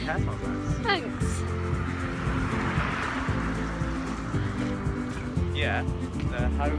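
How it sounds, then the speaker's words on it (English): A car engine rises as a vehicle draws near, with a broad whooshing swell over steady background noise and talking voices. "Car's coming back up, John."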